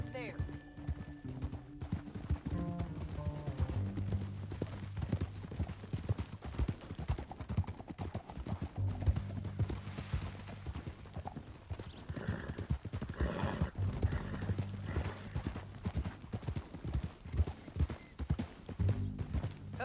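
Horse hooves clip-clop steadily through the full stretch in the Red Dead Redemption video game, a continuous rhythmic trot with voices talking over it and a low background score.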